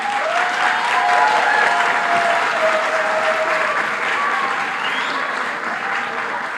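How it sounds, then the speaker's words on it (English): Boston Public School students at Boston Arts Academy give sustained, loud applause to visiting artists, dense clapping from a large crowd holding steady for several seconds with a few faint cheers and whistles. "So can you give them a round of applause?"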